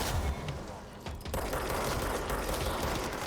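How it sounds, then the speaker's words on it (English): Enemy machine gun fire in the game Control, a steady dense rattle of rapid shots with a brief dip before it resumes, continuous and fairly loud. "Oh, we got another machine gunner."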